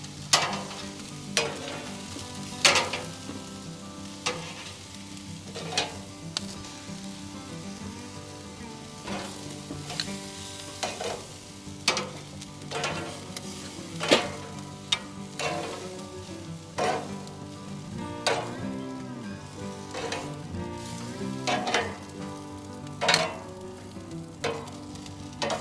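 Carne asada cooking on a Monument Grills Eminence 425 gas grill, a continuous soft sizzle with repeated clanks and taps of tongs and grates spread through the whole stretch, no voices.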